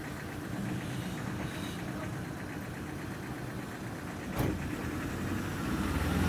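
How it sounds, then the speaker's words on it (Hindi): Hitansh's car pulls up and idles nearby, a low steady engine rumble that holds throughout, with a brief clunk partway through and no voices. "ये इधर हितांश की गाड़ी भी आ चुकी है।"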